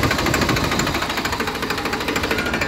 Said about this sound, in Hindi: शानदार जो है आवाज़ है ट्रैक्टर की